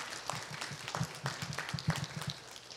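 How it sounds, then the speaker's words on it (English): Scattered, faint applause from a church congregation, sparse claps with low rhythmic thumps underneath, fairly distant and quiet. "let's give her a big round of applause"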